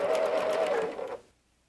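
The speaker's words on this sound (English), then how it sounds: "now I can sew all the way right to my next pin" A sewing machine runs steadily while stitching pieced quilt fabric up to a pin, a close, even mechanical whir that cuts off abruptly near the end.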